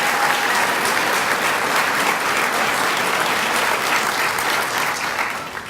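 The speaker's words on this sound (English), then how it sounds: "another round of applause for our 13 newest firefighters." Crowd applause for thirteen new firefighters at a fire department academy graduation, a steady, dense roar of clapping from a sizable audience that holds evenly before easing off at the end.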